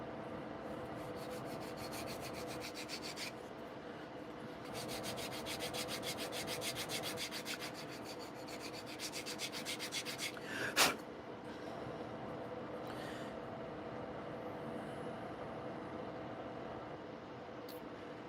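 Fine 400-grit sandpaper rubs along the edges of a paper model in quick, rhythmic back-and-forth strokes, faint and close, pausing between bursts, with a single sharp tap partway through.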